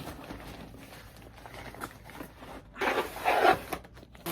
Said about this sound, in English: I'm just gonna unzip it up.